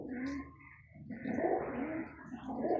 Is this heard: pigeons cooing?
yes